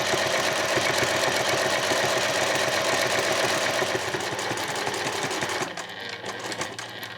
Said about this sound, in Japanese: そしたら返し縫いから縫っていきます。